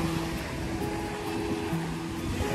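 Ocean waves at a private resort wash in a steady, continuous rush, with no distinct breaks, close and fairly loud, and a few faint tonal hums drift beneath the surf.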